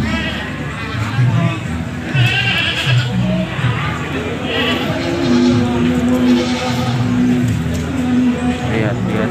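Goats bleat repeatedly in a busy goat market in Kediri, with wavering calls rising over a constant crowd murmur and nearby chatter.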